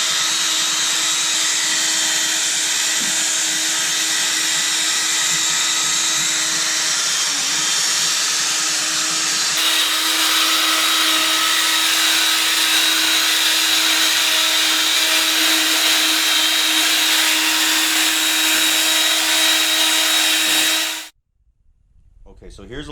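A power sander works 800 grit sandpaper over a cloudy plastic car headlight, a loud continuous motorized whine with steady tone that shifts pitch midway and runs about twenty seconds before stopping abruptly.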